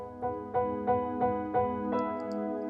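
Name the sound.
keyboard right-hand pattern for the bridge of Mountain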